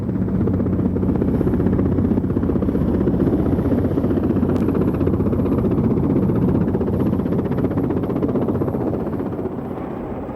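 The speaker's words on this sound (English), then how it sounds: "the Westland Wessex helicopter was fitted with a Napier Gazelle engine" A Westland Wessex rescue helicopter with a Napier Gazelle turbine engine roars loudly and continuously, a dense steady whine and thrum that eases slightly at the end.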